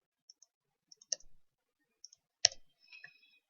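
Computer mouse clicks on a desktop, a few sharp isolated taps spread out with short pauses, close and clean against silence.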